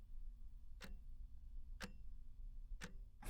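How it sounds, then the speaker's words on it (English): A clock ticks faintly and steadily, about one sharp tick per second, over a quiet low hum. "I am sure you can hear the ticking of the seconds going by"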